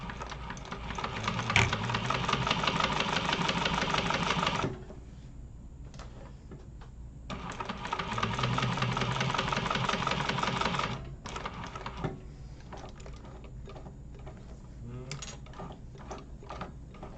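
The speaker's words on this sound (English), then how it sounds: "I'm going to do them both at the same time and just chain stitch them" Two long whirring runs of a sewing machine chain-stitching wallet pieces one after another, close and steady, separated by clicks and fabric handling; no talk over it.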